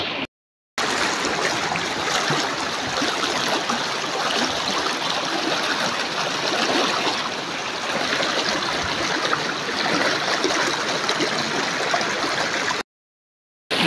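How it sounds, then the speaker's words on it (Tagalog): A clear river waterfall and fast-flowing stream in hot weather, a loud steady rush of water continuing without pause, bracketed by brief silent gaps at the start and end. "Ayan na ating falls."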